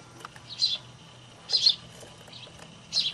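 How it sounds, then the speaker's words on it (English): Birds nesting in an attic make three short, bright chirping or scratching bursts on a hatch, roughly a second apart, faint and close in a quiet room. "It's the sound of the birds twitching around on the hatch of the basement,"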